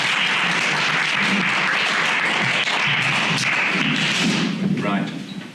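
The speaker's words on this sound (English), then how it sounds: "Can you give him a little applause?" Audience at a literary conversation event applauding a writer, with sustained close, dense clapping that tails off near the end.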